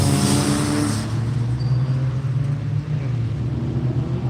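A Porsche race car pulls away at VIR, loud and close at first with a strong low engine drone and bright high-end roar that fades to a steadier rumble as it moves off.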